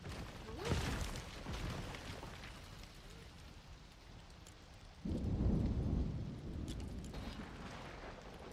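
Thunder from a storm in Fortnite LEGO rolls in a deep rumbling crack, with steady rain hiss throughout and a second heavy rumble swelling midway.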